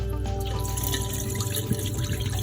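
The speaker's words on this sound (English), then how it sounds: "I'm going to pour that whole liquid over it" Liquid poured over homemade rasmalai in a dish, a steady close trickle and splash of water-like flow running continuously without talk.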